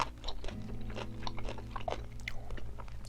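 Close, wet chewing and crunchy bites on a whole parboiled king octopus leg from a seafood market, several chomps in quick succession with no talking.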